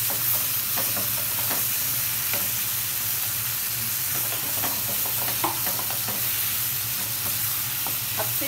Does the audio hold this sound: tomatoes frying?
yes